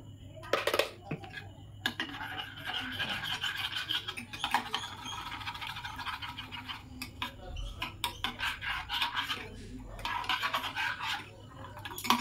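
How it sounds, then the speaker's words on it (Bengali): A spoon scrapes and clinks steadily against a bowl while powdered milk is mixed in for homemade mango ice cream, a busy run of close kitchen scratching and tapping. "মোটামুটি হাফ কাপের উপর আমি গুঁড়ো দুধ এখানে মিক্সড করব।"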